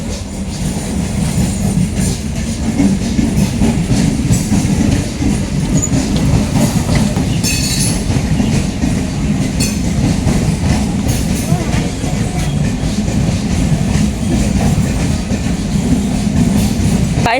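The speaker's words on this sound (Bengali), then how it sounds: "আবারও ট্রেন আসছে" A train rolls past on the tracks right beside a cyclist practising stunts, a loud steady rumble with rhythmic wheel clatter and occasional squeal that fills the whole clip.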